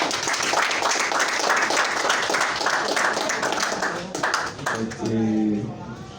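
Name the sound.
audience applause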